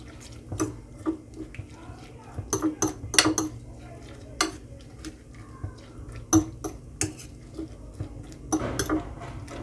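Onion being stirred into a bowl of beaten eggs for a Pakistani-style Spanish omelette: a utensil scrapes and clinks irregularly against the bowl, close and moderately loud, with a low steady hum underneath.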